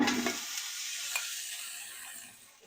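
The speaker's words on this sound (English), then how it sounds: "let's get that bacon in the pot" Bacon sizzling in a pot on medium heat, a bright close crackle that starts strong with a few stirring clinks and then gradually fades toward quieter hissing.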